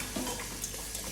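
Water runs from a tap while a five-year-old child rinses hands at the sink, a steady close hiss with small splashy bumps.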